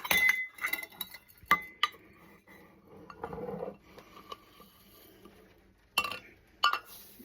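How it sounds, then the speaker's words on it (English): A spoon stirs rice in a slow cooker, making sharp clinks and knocks against the pot, with scattered light scraping between them and a final pair of taps as the spoon is set back on top. "Stir it in with my handy dandy spoon, and then put my spoon back on top."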